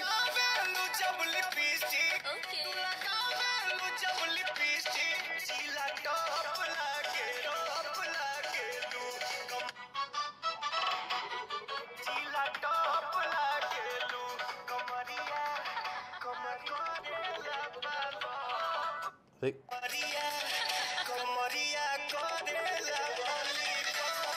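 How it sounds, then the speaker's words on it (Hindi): Music plays loud and steady through the speakers of a Realme C53 and a Redmi Note 12 smartphone during a sound test, with one short drop-out near the end and no talking. "Realme का साउंड तेज है एज कम्पेयर टू Redmi, लेकिन Redmi की क्लियरिटी ज्यादा बढ़िया है"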